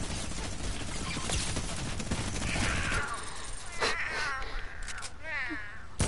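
A cat meows several times in Fortnite, short wavering cries standing out over game sounds, while players talk over the action.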